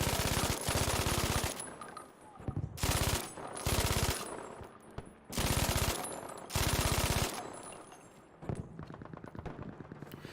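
MG42 machine gun in Battlefield 5 gameplay, firing several loud, rapid bursts of a second or so each, separated by short pauses and followed by quieter, more distant automatic fire.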